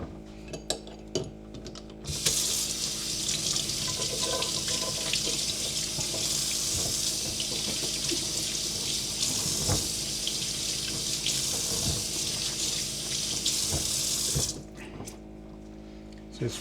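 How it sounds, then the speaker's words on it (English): Tap water runs steadily into a kitchen sink for about twelve seconds while four eggplants are rinsed, with occasional clunks and knocks of handling before and after. "I'm going to wash the eggplants"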